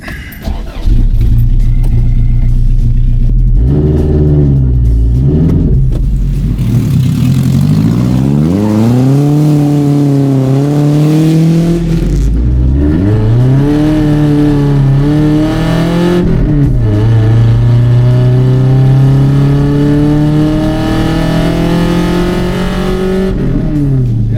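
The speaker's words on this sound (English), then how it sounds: "here's some earplugs because this truck is unruly loud" Loud truck engine revving repeatedly, pitch climbing and falling through several long pulls, with a turbo whine riding over the deep roar.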